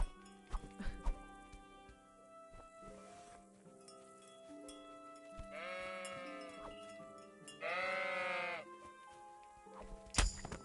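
In the medieval video game Kingdom Come: Deliverance, a sheep bleats clearly twice in quick succession over a soft bed of game music and ambient tones, with scattered clicks around it.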